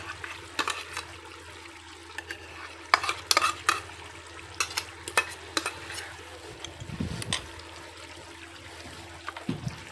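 Ground onion paste goes into a pan for a Mughlai chicken gravy, a soft wet sizzle under repeated scraping stirs and clattering spoon strokes at close range, with no talk.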